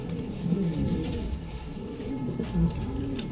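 Soft, throaty coos from a pair of Maxi pigeons repeat in low rolling phrases, close by, with a couple of louder bursts amid quiet background noise.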